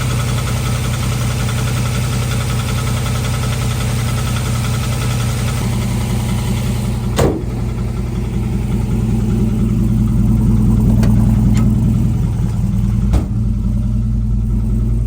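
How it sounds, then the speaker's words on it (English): A van with a swapped LS V8 idles loudly and close by, its steady rumble carrying a faint ticking from noisy lifters, with a couple of sharp clicks and a slight rise in engine tone partway through. "Something's not sounding good. It's the lifters."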